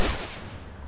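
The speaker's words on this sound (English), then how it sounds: "Just gonna use my pistol on him" Pistol gunfire in The Last of Us, a burst of sharp loud shots with a dense noisy crack at the start, then fading reverberant echo, no voices.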